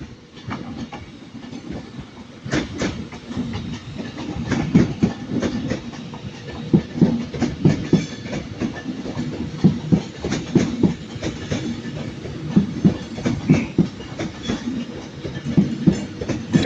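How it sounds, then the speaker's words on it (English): An Avanti West Coast Pendolino class 390 train rolls past at Manchester Piccadilly with rhythmic clickety-clack over the rail joints, building from quiet to a steady, close rumble over about seventeen seconds. "I gotta record the Avanti."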